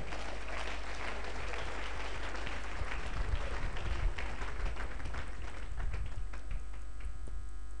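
A church congregation claps in sustained applause, a dense, loud wash of hands with scattered shouts and crowd noise rising and fading over several seconds, and no clear speech.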